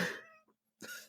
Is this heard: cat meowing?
yes